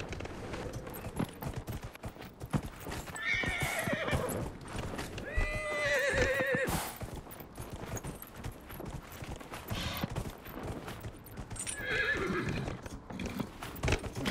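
A horse in the fantasy video game Dragon Age: Inquisition whinnies and neighs several times amid clopping hooves and busy game noise, with loud bursts of rapid crackling like gunfire mixed in.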